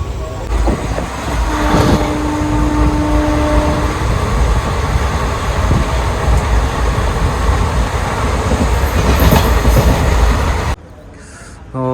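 A train rumbles loudly along the rails with a steady, rolling clatter, then the noise drops off sharply near the end as a voice begins at Raiwala station.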